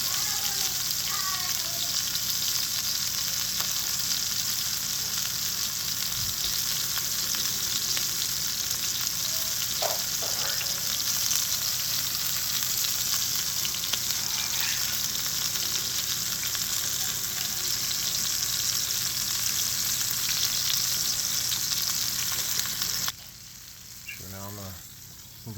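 Chuck roast sears in a hot cast iron skillet, a steady, loud sizzle and crackle running throughout, with a brief clatter near the end as the meat is handled; a voice speaks faintly under it.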